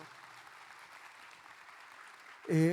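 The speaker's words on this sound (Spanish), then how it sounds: "Sí, aplausos, por favor." A film festival masterclass audience applauds in a soft, steady patter heard from a distance, cut off near the end by a loud, close voice.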